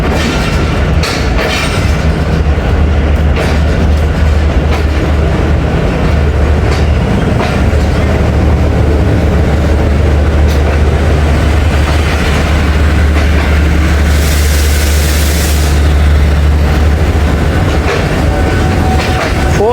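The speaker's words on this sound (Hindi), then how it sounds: "रावलपिंडी से हमारी 13 अब 4:30 बजे डिपार्ट कर रही है।" A passenger train pulls out of Rawalpindi, its loud deep engine rumble steady throughout with rhythmic wheel clatter over rail joints and a brief hiss partway through, heard from on board.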